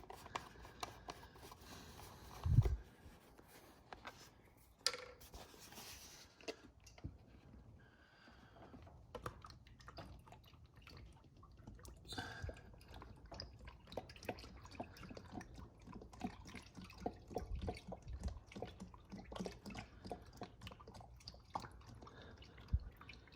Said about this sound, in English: and then I just pour in the whole 5 quarts first.